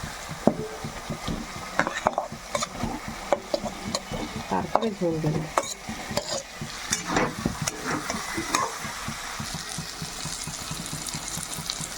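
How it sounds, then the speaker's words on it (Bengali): Fried potatoes being sautéed in spice paste for a Boyal fish curry make a close, crackling sizzle with frequent scraping and stirring strokes, and a voice speaks briefly. "এবার আমি আলুটা দিয়ে আর একটু ভালো করে কষিয়ে নেব"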